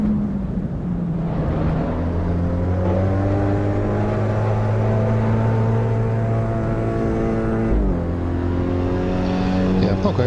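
Engine of a race car in the Assetto Corsa Evo racing video game, a loud steady drone with rising revs and a brief gear-change dip near the eighth second, heard throughout with no talking.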